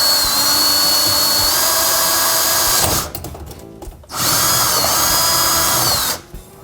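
A power drill bores a drain line hole in the cabinet under a kitchen sink during a reverse osmosis filter install, running loud and steady in two long bursts with a brief pause between them.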